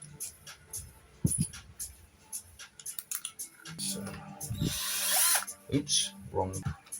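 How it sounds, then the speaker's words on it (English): A power drill bores a hole through a plastic part of an X-Maxx RC car, with short whirring bursts spread across the clip, louder near the end, among handling clicks and a voice. "drill a hole"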